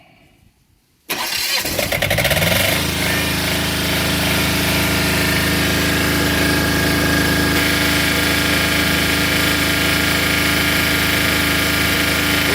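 A Hyundai DHY 12000 LE generator engine cranks and catches after a moment of near silence, then settles into a loud, steady, close running drone with constant mechanical hum and no talk.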